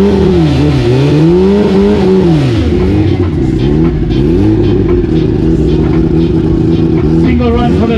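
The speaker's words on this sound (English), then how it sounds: "that is a turbocharged Hayabusa" A turbocharged Hayabusa-engined drag racer at a South African drag strip revs and accelerates loudly and close by, its engine pitch sweeping up and down in repeated surges, with voices talking over the roar.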